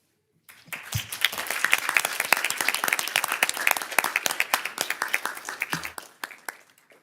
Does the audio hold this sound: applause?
yes